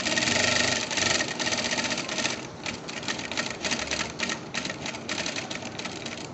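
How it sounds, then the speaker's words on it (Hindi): Electric sewing machine stitching a gents' shirt collar, a rapid chattering needle run that starts loud, then continues in uneven bursts with short pauses, close by and with no talk. "उसके बाद मशीन पे जाएंगे, यहाँ से करेंगे सिलाई शुरू"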